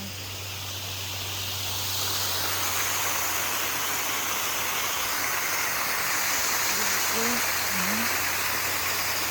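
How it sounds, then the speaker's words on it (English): A waterfall heard as a steady broadband rushing roar, rising slightly at first and then holding constant and fairly close, with faint voices talking beneath it. "Did you see the waterfall here?"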